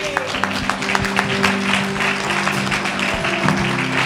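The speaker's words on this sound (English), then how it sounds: "get a little hand clap of praise" A church congregation claps hands in praise, loud rhythmic clapping in steady time from many people, mixed with sustained organ or keyboard tones and brief voices underneath.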